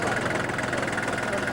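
A small three-cylinder tractor engine running at idle, a steady close rumble with an even pulsing throb and no pauses.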